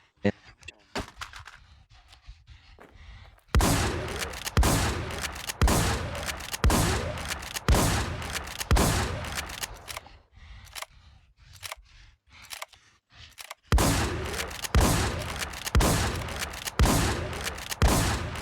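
A long rapid-fire volley from the RA H23 rifle shooting a boss in the Infestation survival game, a steady close string of sharp cracks that pauses briefly and then resumes.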